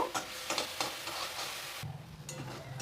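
Onion, ginger and garlic fry in a pan for egg soup, with a steady close sizzle under repeated spoon stirs and scrapes. A louder, lower frying hiss takes over near the end, and no one speaks.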